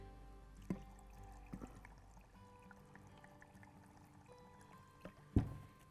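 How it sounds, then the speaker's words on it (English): Water poured into a flower-arranging vase filled with deco beads, quiet trickling and pouring with a couple of brief louder splashes or clunks, no talking. "So I'm going to put some water in here."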